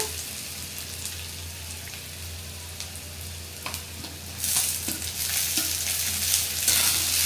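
Tomatoes go into a pan of well-browned onion for paneer bhurji and sauté with a steady sizzle. A few scraping stirs break in, and a louder burst of frying begins about two-thirds of the way through.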